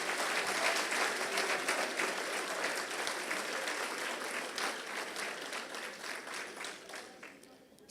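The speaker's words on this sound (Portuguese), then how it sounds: "Agora eu quero um aplauso bem grande para essa verdade." Large congregation at a church sermon breaking into big applause, a dense continuous roar of clapping that holds steady and then slowly thins out toward the end.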